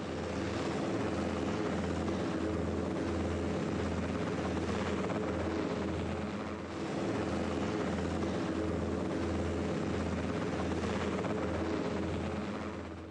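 The rotors of an early large helicopter, a machine with rotors in a triangular arrangement, thud in flight with a steady rhythmic beat over a continuous engine drone that holds even throughout.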